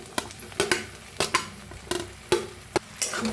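A spoon stirs pan-fried okra with green chilli and garlic, giving a series of sharp scraping strokes against the pan about every half second over a soft sizzle.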